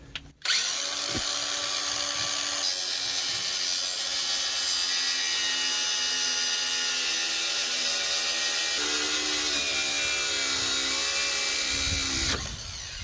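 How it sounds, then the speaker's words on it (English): A grinder cuts through a sway bar end link on a VW Golf MK5 during subframe removal, its steady high whine running continuously for about twelve seconds, loud and close, with no talking over it. "Get the grinder."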